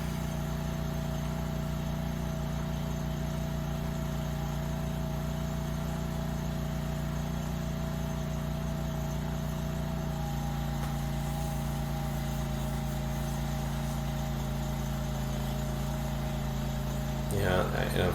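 A rented trencher's motor runs steadily while digging, a constant droning hum with a brief burst of added clatter near the end.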